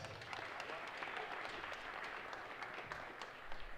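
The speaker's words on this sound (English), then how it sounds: "one round of applause for Dallin again, guys" Audience applause at a university combat robotics event, a continuous crackle of many hands clapping, faint and distant, with a few sharper claps near the end.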